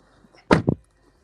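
A pickup truck door swings shut with a solid thump, a quick double knock in a quiet setting, followed by near silence.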